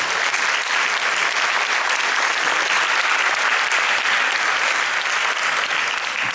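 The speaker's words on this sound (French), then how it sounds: "Vous pouvez les applaudir bien fort." Audience applause for a junior massed band at a concert in Grande-Synthe, France, a dense steady clapping from a large crowd that holds evenly throughout.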